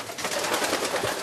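Racing pigeons in a loft give soft, close, continuous cooing, a steady murmur of several birds calling over one another with no voices.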